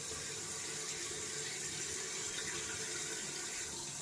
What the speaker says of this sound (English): I'm just trying to wash out my hands here, which is caked in lather.